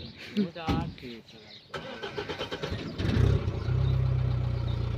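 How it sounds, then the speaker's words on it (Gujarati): A tractor engine cranks and catches after a few seconds of people talking nearby, then settles into a steady, low, throbbing idle close by. "ટ્રેક્ટર"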